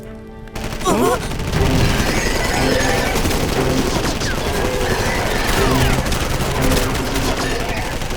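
Gunfire in an animated cartoon episode of Dino Mecard: a loud, continuous barrage of rapid shots and bursts fills the whole stretch, with the occasional shout mixed into the din.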